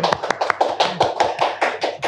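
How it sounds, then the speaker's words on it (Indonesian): A small group claps in a steady rhythm, about a dozen sharp, close claps, loud and clear with no talking. "tepuk tangan dulu Bu"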